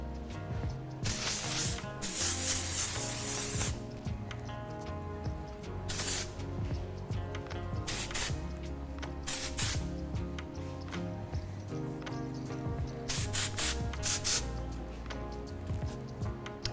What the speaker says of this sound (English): This is a little bit of a spray wax I'm just gonna put through this hair.